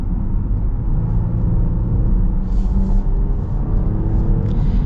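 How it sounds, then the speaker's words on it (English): Smooth V6 engine of a 2026 Dodge Durango GT while driving, heard from inside a well-insulated, quiet cabin as a steady low rumble and tire hum with no sharp revving. "The V6 is smooth."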